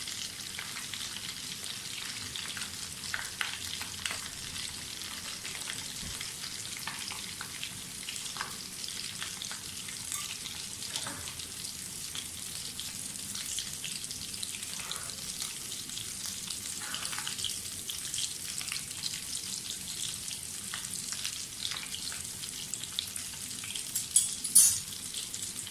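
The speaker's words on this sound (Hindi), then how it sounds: "कचौड़ियाँ हमारी फ्राई होना शुरू हो गई हैं।" Suji kachoris deep fry in hot ghee with a steady, even sizzle and bubbling that continues without pause, moderately loud and close, with no voices.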